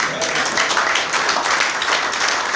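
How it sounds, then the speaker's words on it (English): Audience applause after a request for another round at a formal ECCB Monetary Council ceremony, a dense, steady wash of many hands clapping at moderate distance, sustained and even throughout with no speech over it. "asking you to give another round of applause to them"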